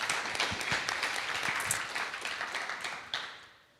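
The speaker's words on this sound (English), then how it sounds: "Let's give Rendition a huge round of applause." Fairly faint audience applause at a music conference panel, a brief burst of scattered claps that thins out and fades over a few seconds.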